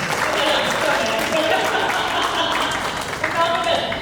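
Audience claps at an annual business meet in India, a steady wash of applause with voices mixed in beneath it.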